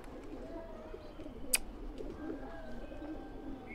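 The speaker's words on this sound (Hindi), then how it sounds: "बड़े प्यारे प्यारे कबूतर हैं गाइस।" Pigeons coo softly at a rooftop loft, low repeated coos over a faint outdoor background with a few chirps and one brief sharp noise.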